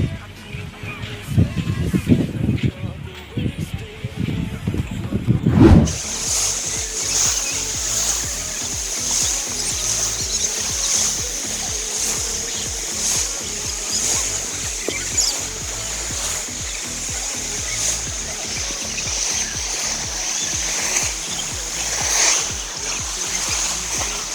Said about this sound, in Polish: tak jak możecie zobaczyć, jest tu morze